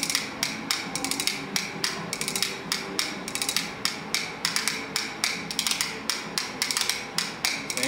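Spoons rattled against a leg in a simplified, steady galloping rhythm, bright clicking strikes repeating rapidly and evenly throughout, close and alone.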